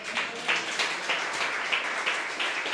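A church congregation claps along during a sermon, steady rhythmic hand claps with regular accents, moderately near and filling the space without voices over them.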